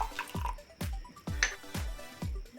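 Hot water is poured in small amounts onto instant coffee powder and sugar in a cup for dalgona coffee, giving a series of quiet, close splashing drops at a fairly regular rhythm.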